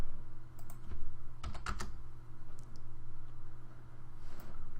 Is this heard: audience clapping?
no